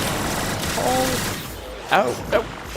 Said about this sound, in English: I'm just goofing off and shooting things because I can.